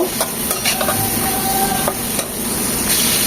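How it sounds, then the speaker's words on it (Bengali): Chopped cabbage and carrot being stir-fried for chicken fried rice, a continuous close sizzle broken by brisk scraping stirs and light utensil knocks, with no voices. "গাজরটাকে এক মিনিট ভেজে নেওয়ার পর দিয়ে দিব বাঁধাকপি কুচি এটাকেও এক মিনিট ভেজে নেব"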